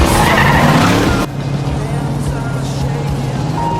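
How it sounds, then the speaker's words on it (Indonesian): A Ford Mustang in a film scene drives with a brief tire skid and engine roar, then a steady lower engine hum carries on under faint background sound. "Mereka pun berkendara menggunakan Ford Mustang"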